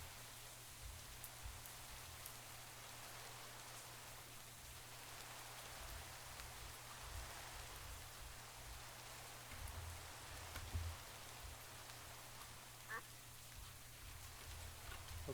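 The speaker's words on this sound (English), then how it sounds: "It's been pretty consistently raining." Steady rain in the blocky survival game TerraFirmaGreg, a dense even hiss that runs through the whole stretch with a soft low hum beneath and a brief faint tone near the end.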